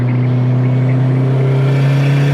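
A 2005 Subaru STI at full throttle gives a loud, close engine drone with a strong steady tone, held without a break and heard alone.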